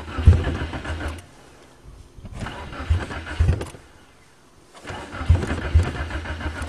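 A 1994 Nissan Sentra with a 1.6 engine turns over on a cold start in three separate cranking bursts, each a close, loud, churning whir that stops between attempts.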